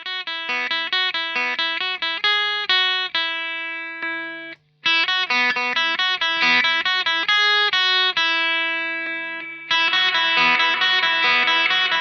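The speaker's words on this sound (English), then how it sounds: "So the Jazzmaster straight into the amp sounds like this." Clean Jazzmaster electric guitar plugged straight into the amp, playing sustained chords and arpeggiated notes, bright and loud, with a brief pause midway and no talking.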